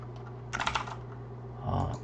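Keys clatter on a computer keyboard as a file name is typed into a simple C# notepad program, two short bursts of close, quiet tapping over a steady low hum.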